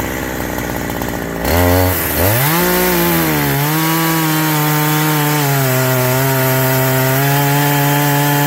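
A chainsaw cuts through a giant burnt tree in a forest, its engine revving up sharply and then holding a loud, steady, buzzing roar as it bites into the wood.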